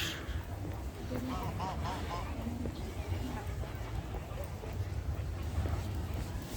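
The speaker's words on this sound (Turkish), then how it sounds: "Çok fazla sayıda ördek var." Ducks quack now and then over steady outdoor background noise and murmuring voices on a street in Avanos, Nevşehir, Turkey, the calls brief and scattered.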